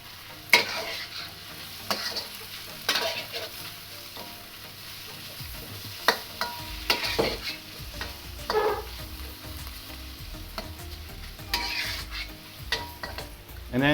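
Shrimp and onion sizzle steadily in a hot pan while being stir-fried for a Thai shrimp curry, with a constant frying hiss and repeated scrapes and clinks of the utensil against the pan.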